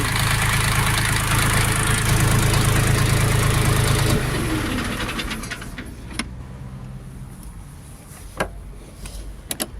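A Jinma 244 mini tractor's small engine runs with a loud, rough idle, then shuts down and winds to a stop, followed by a few sharp clicks and knocks.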